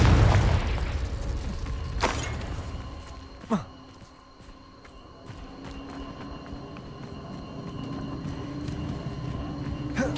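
Confringo blasting spell cast in Hogwarts Legacy, giving sharp explosive bursts near two and three and a half seconds over a steady low rumble and faint ambient game tones.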